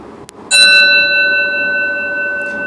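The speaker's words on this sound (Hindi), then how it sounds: "तो सुन सकते हैं फ्रेंड्स कि यहाँ बेल कैसे बजता है" A bell sound effect from a sound-effects library rings out once, loud and clear, with long sustained tones that slowly fade, preceded by a brief click.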